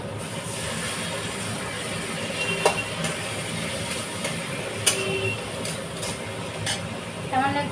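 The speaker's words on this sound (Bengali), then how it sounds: "তার আগে একটু জল দিয়ে নিই নাহলে মশলাটা পুড়ে যাবে" Turmeric and chilli powder masala hisses and steams in a pan after water is poured in. The spitting sizzle runs continuously, with scattered sharp crackles and a few short, faint bits of speech in the background.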